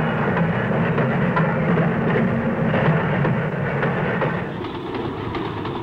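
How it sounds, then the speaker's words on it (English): A diesel suburban passenger train, the Red Hen in South Australia, rumbles past with a steady, loud low drone and faint rhythmic clickety-clack of wheels, fading slightly toward the end. "In some states, diesels are used on suburban passenger services, like this one in South Australia,"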